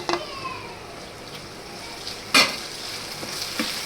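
Tomatoes sauté in a frying pan with a steady low sizzle, broken by a sharp clink of a utensil against the pan midway and a few fainter scrapes.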